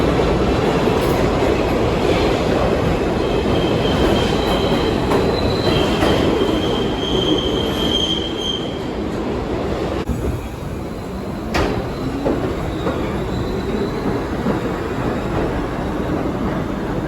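Subway trains of the 4, 5 and 6 lines rumble through Grand Central station with steady loud rail noise, clattering wheels and high wheel squeals, dipping briefly midway before the roar resumes.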